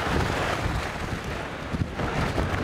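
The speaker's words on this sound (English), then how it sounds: "It was so windy and raining so hard in Kaohsiung on the morning of August 5th" Strong wind from tropical storm Lupit buffets the microphone during heavy rain on a morning in Kaohsiung, Taiwan, a loud continuous broadband roar with gusting swells and no voices.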